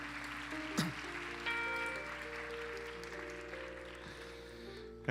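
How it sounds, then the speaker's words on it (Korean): A congregation at a church youth worship service breaks into a steady round of applause, soft and somewhat distant, holding at an even level for several seconds. "우리 좀 박수 한번 해주십시다"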